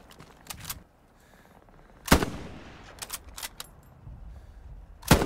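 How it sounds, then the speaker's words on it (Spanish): Sharp gunshots crack in a Hell Let Loose game soundscape: a few quick shots, a loud single blast, then a tight burst and one more loud shot near the end, no talking. "Oigo un disparo, oigo otro."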